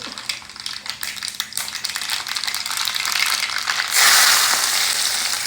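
Mustard seeds crackle and pop in hot oil for a nutmeg pickle, a dense close crackling that grows louder and brighter toward the end, with no voices over it.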